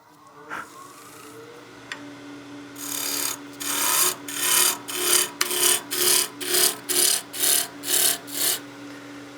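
Woodturning tool bouncing against an out-of-round wood blank on a lathe for a Christmas gnome, cutting in a steady series of about a dozen rhythmic rasping bursts over the motor's hum, close and fairly loud with no talk.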